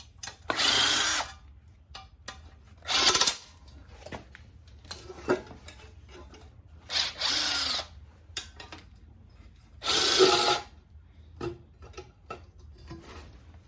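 A pneumatic impact gun zips out exhaust manifold bolts on an LQ4 6.0 V8 engine during a rebuild, several loud separate bursts of whirring with quiet pauses between them.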